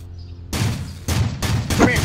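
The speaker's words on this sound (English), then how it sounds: "There's a guy out here shooting at me." Gunfire in the Roblox game Ultimate Driving: several loud, close bursts of shots in quick succession, mixed with game noise.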